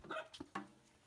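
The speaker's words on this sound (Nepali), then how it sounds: "कुकुर कहाँ भुक्दैछौ आइज" Dog barking: two or three short, faint barks in quick succession, heard from a distance in a quiet setting.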